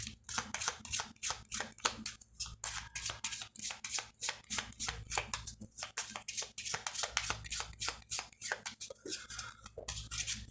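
Rapid, repeated riffling of a Cigano fortune-telling card deck being shuffled, crisp flutters one after another up close, with no voices.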